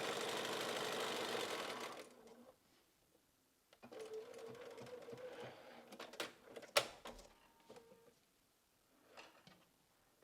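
A sewing machine runs a zigzag stitch through quilt binding with cotton thread, giving a steady whirring burst of about two seconds, then a pause and scattered clicks and handling knocks.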